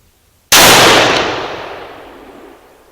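One sharp, loud rifle shot from a Remington 700 ADL firing copper bullets cracks out, then trails off into a long fading echo over a couple of seconds.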